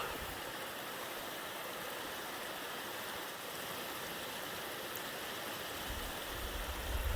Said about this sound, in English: And I have a lovely waterfall.